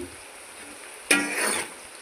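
Bitter gourd fries with salt and turmeric in a pan, a quiet lull broken by a sudden stir that sets off a burst of sizzling, which carries on steadily for about half a second before fading back.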